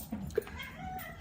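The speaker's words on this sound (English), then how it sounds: "That's our dog and our cat." A short, faint meow from a cat in the background, quick and high-pitched, over low room noise.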